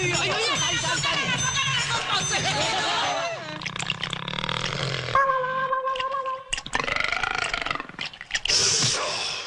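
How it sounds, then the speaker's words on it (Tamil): A tiger gives a loud, drawn-out burp after swallowing a key in a Tamil comedy film scene, amid overlapping voices, tonal effects and film sound, close and prominent. "ஒரு சாவி சாப்பிட்டதுக்கு ஏப்பம் விடுது"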